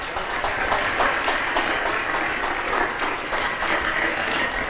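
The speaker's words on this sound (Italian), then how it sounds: "un grande applauso per Peppe Rao." A live audience at an Italian stage show applauds a guest being introduced, a steady crackling wash of many hands clapping at moderate volume with no talk over it.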